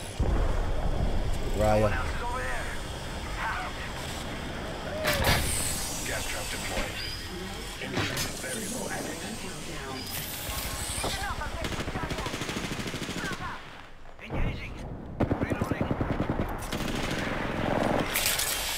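Rapid gunfire from the shooter game Apex Legends crackles from the side through a busy firefight, with dense bursts and a short lull near the end, while players talk over the shooting.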